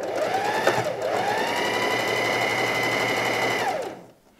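A sewing machine runs steadily at high speed, stitching fabric for an upcycled garment, with a brief stutter near the start before winding down and stopping; no voices.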